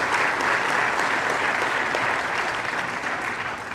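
An audience applauds during a South African presidential speech, a dense, sustained wash of many hands clapping at an even, loud level throughout, with no voice over it.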